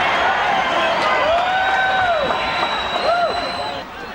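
A boxing arena crowd at the Great Western Forum roars steadily through the final seconds of round four of Paul Banke vs Daniel Zaragoza, a dense, continuous wash of noise with a commentator talking over it.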